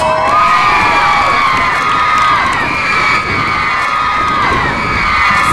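A live festival-stage crowd cheers and whoops as a Bavarian band is introduced, a loud, dense, continuous roar of voices without a break.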